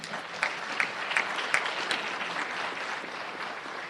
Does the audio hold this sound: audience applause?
yes